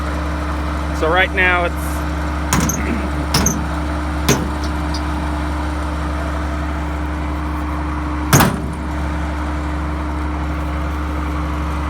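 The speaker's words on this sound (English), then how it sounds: "get on the tractor and start making some bales" A farm tractor idling before hay baling late at night, a steady loud low droning engine hum throughout, with a few sharp clunks and a person speaking briefly over it.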